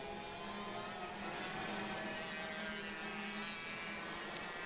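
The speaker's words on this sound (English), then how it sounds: "that engine is definitely screaming high murder at the moment" Racing kart engine at a karting series qualifying heat, a steady high-pitched screaming drone from a noisy exhaust, continuous and fairly distant, with no talk over it.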